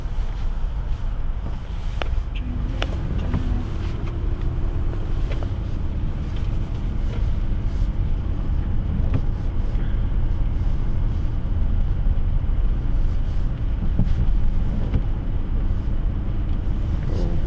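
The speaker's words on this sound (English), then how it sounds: "It's just heavy traffic" Heavy road traffic heard from inside a crawling car: a constant low rumble of engines and tyres with wind buffeting, occasional faint clicks and passing whooshes, no voices.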